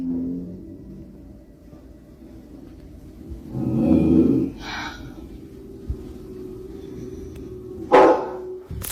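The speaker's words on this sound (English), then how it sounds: "Even the family dog got scared, growling and barking as if it sensed something dangerous" A dog gives a low growl followed by a couple of short, sharp barks, moderately close, over a steady low background hum.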